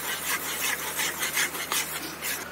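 Gram flour roasting and being stirred in oil in a pan over a very low flame while stuffing masala for bharwa parwal, giving a steady close scraping and rasping of a spoon against the pan with soft sizzle, no talk.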